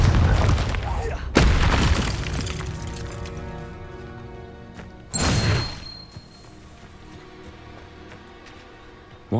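A Confringo blasting-spell explosion in the game Hogwarts Legacy: a heavy boom near the start, a second loud crash midway, with a lingering rumble and musical score underneath.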